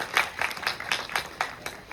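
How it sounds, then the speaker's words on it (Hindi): Audience clapping along in a steady rhythm of about eight sharp claps in two seconds at a street play on cyber security, fairly faint and heard without talk. "तो हो जाए जोरदार तालियां अवेयरनेस के लिए"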